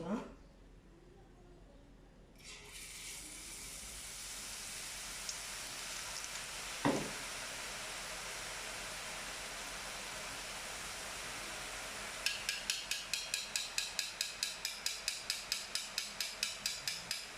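Boondi batter dropping into hot oil for kara boondi: a steady loud sizzle and hiss of frying holds throughout, and toward the end a quick series of regular taps joins it, with a voice talking over it.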